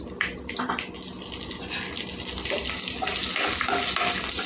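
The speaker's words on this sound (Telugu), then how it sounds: "చూడండి ఇలా వేగాలండి ఎండుమిరపకాయలు" Dried red chillies fry in hot oil with a steady crackling sizzle, building slightly louder toward the end, without any talking.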